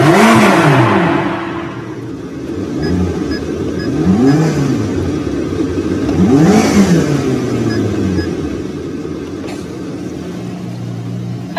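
A McLaren supercar engine in sports mode revs repeatedly, several rising-and-falling surges over a steady rumbling idle, heard from a short distance.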